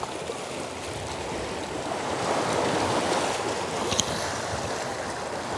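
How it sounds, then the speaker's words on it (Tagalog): Sea waves breaking on a beach in Marche, Italy, a continuous broad wash of surf that swells slightly in the middle, with no voices, heard from close by. "Nalakas na po ang alon."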